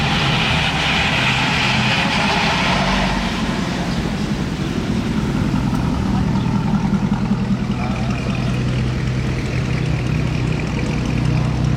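Aston Martin V12 Speedster with an open straight-through exhaust in Monaco, its loud, rough engine roar rumbling close and continuous, fading slightly toward the end.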